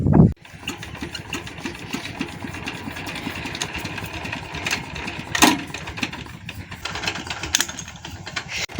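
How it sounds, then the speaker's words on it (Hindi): A Peter diesel engine in a rice field catches with a sharp start, then settles into a steady, loud, close idle with a regular chugging beat that runs throughout. "मैं ही पीटर स्टार्ट करूंगा।"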